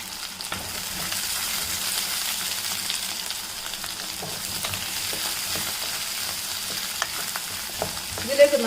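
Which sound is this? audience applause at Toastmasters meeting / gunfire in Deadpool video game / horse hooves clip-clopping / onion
onion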